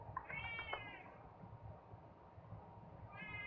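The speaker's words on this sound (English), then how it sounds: "My cat has decided he wants attention and he wants it right now." A pet cat meows insistently for attention, one drawn-out yowl near the start and another beginning at the end, fairly distant and faint over a low background hum.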